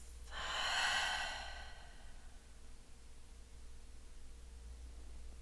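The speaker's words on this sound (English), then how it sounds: "Take a big breath in through the nose and exhale, open the mouth." A single deep breath, drawn in through the nose and released through an open mouth, opens a guided de-stress yoga session. It comes as one soft, airy rush near the start, then fades into quiet room tone.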